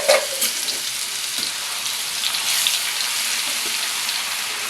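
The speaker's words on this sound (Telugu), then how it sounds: "ఇప్పుడు ఇదే ఆయిల్లో 4 టేబుల్ స్పూన్లు అల్లం వెల్లుల్లి పేస్ట్ వేస్తున్నాను." Four tablespoons of fresh ginger garlic paste fry in hot oil for chicken pickle, making a loud, continuous close-up sizzle like hissing rain, with a few pops near the start.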